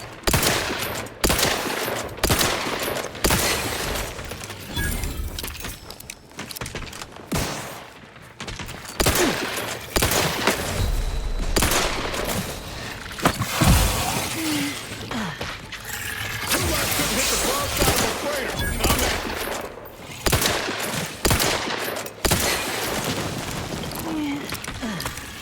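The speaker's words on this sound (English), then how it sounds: "I'm trying to shoot the crab." Sustained automatic gunfire in the video game Outer Worlds 2, aimed at a crab: loud, dense bursts of rapid shots with brief gaps, continuing throughout with occasional speech and game sounds mixed in.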